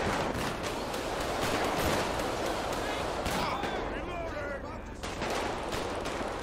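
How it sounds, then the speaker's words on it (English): Rapid bursts of gunfire in GTA 5 during a police gang-unit patrol, dense repeated shots crackling close and loud for most of the stretch, easing briefly near the end before resuming. "Somebody shooting my way"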